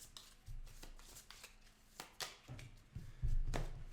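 A deck of playing cards being shuffled by hand during a tabletop card game, with soft, close riffles and taps repeating in short bursts at low volume.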